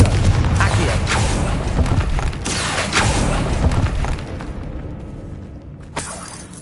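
Confringo blasting spell exploding in the Hogwarts Legacy video game inside an eerie tomb: a loud, sustained rumbling boom with crackling debris that gradually fades, then a sharp final thump near the end.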